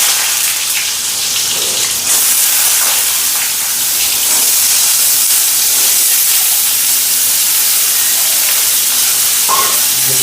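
Black cumin, squash and potato fry in a pan with a steady, loud hiss and steam-like sizzle that fills the whole stretch, with a few faint clinks near the end and no talking.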